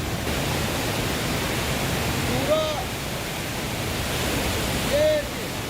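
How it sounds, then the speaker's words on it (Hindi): Floodwater rushes steadily into a cave after heavy rain, a dense, constant broadband roar like a waterfall, loud and unbroken throughout. "ये देखिए यहाँ पर जो गुफा है वहाँ पर भी पानी प्रवेश करने जा रहा है।"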